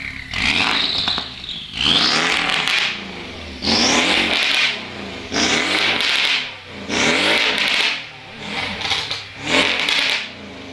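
A Porsche 718 Street Cup with a modified valved exhaust revs in race mode, giving about six loud, close, rising engine blips with brief dips between them and no voices.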